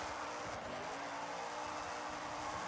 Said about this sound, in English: The car's just struggling for a gear up.